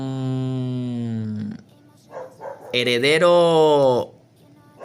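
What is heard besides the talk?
dog barking in background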